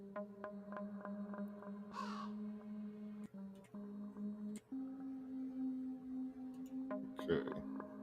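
A crow caws several times, in brief harsh calls, over a steady low hum with a voice talking faintly beneath.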